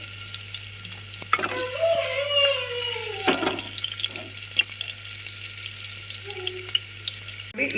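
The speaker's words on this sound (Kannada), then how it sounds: "ಇದಕ್ಕೆ ಈರುಳ್ಳಿ ಆ್ಯಡ್ ಮಾಡ್ಕೋತೀನಿ ಸೊ ಈರುಳ್ಳಿ ಕಂದು ಬಣ್ಣ ಬರೋವರೆಗೂ ನಾವು ಸ್ವಲ್ಪ ಇದನ್ನ ಫ್ರೈ ಮಾಡ್ಕೋಬೇಕಾಗುತ್ತೆ" Onions frying in oil in a pan for a mutton dish, a faint sizzle with scraping and stirring clinks, with a steady low hum throughout and a sharp knock near the end.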